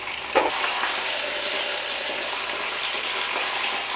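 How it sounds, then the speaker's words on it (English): Beef pot roast searing in a pan, a steady bright sizzle that runs throughout, with one brief clatter near the start. "Now, while it's still searing over here"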